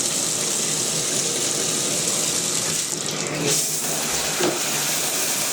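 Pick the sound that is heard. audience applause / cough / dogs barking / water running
water running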